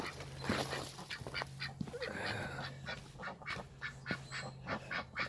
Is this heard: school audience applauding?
no